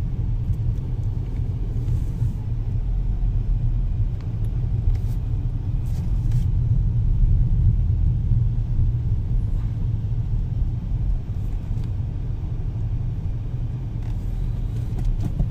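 Maruti Brezza car cruising in fourth gear at low speed through city traffic, a steady low engine and road rumble heard from inside the cabin, even and continuous throughout with no talking.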